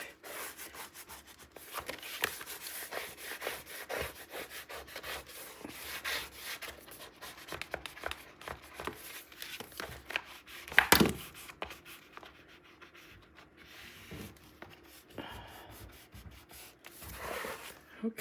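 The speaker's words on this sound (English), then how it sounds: "Now we'll get in here and start to burnish." A burnishing tool rubs a paper hinge flat on a mini album page, giving long, close, scratchy strokes in an uneven rhythm with one sharper scrape partway through and no talking.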